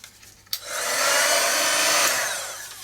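A hair dryer blows over freshly painted stained glass pieces, starting with a click and then a steady, close, whooshing roar that holds for a couple of seconds before easing slightly.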